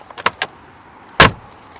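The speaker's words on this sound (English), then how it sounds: "So we need to close all doors, just make sure all of them are closed." Doors of a Mercedes-AMG G63 4x4 Squared being shut: a few light clicks and thuds, then one loud, solid slam close by, with no talk.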